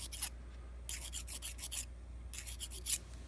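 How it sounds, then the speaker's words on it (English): Half-round needle file deburring the inside of a handmade lock, two quick bursts of short rasping strokes separated by pauses, close and crisp. "So I just take one of my needle files, the half round, and I'm just going to lightly deburr the inside."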